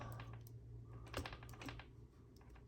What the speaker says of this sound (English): I'm going to need to use the USB keyboard